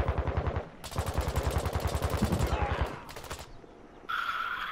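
Rapid machine-gun bursts crackle in Warzone 2, a dense run of shots in quick rhythm for about three seconds, then a few scattered shots before a higher-pitched tone.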